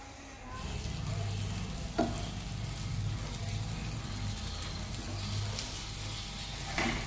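Masala dosa batter sizzles and fries in oil on a hot pan, a steady close crackling hiss that sets in after a brief moment, with one faint clink partway through.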